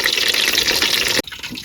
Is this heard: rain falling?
no